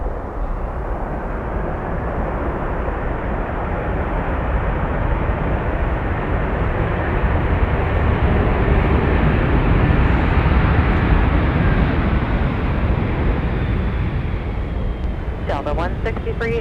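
An Airbus airliner rolling out on the runway at MSP airport, a loud continuous engine roar with steady broadband rush, filling the whole stretch with no pauses.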